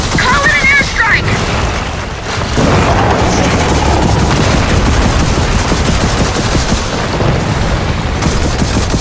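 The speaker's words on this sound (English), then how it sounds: "Call it an airstrike." Airstrike explosions in Gears of War 4, a war shooter game: heavy booms and rumbling blasts mixed with rattling gunfire, loud and close, with voices talking over the din.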